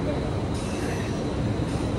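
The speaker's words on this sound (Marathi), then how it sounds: "सो मी आता आलेली आहे खार स्टेशनला. प्लॅटफॉर्म नंबर 2ला जाते फटाफट, कारण आपली ट्रेन येणार आहे तिकडे." Busy commuter train platform at Khar station in Mumbai, with a steady broad rumble of rail traffic and crowd noise filling the whole stretch, no clear individual events standing out.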